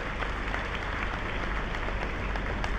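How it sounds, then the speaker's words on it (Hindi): A large audience applauds loudly at a teacher-honouring ceremony, with dense, steady clapping that fills the whole stretch without letting up and no voices above it. "मैं चाहता हूं एक बार जोरदार ताली बजाकर आप लोगों का स्वागत करें।"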